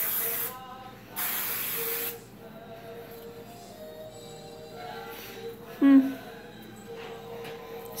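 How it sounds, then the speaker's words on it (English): A travel-size hairspray can gives short hissing spritzes of mist, two clear bursts close to the microphone separated by quiet, with a soft background hum. "A few spritzes gives hair a soft hold with plenty of volume, bounce, and shine."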